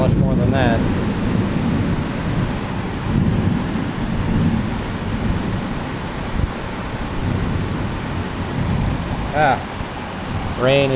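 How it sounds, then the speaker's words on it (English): Heavy rain pouring through a thunderstorm in Bangkok, close and loud, a dense continuous hiss with low thunder rumbling beneath and a few brief squeaky sounds near the end. "Ah, rain is making its way inside."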